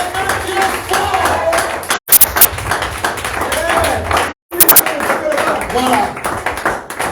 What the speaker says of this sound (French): Acclamez le Seigneur William Branham. Acclamez très fort.